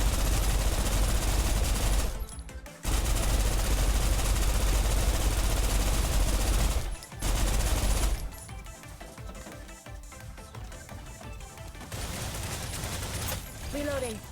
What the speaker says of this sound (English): It still has the machine gun sound effect though.